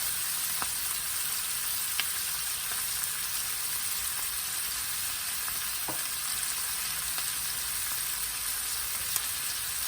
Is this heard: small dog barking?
no